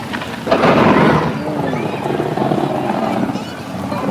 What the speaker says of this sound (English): And yes, Mambo, it is raining like crazy. Look at this. Oh, we got the lightning too.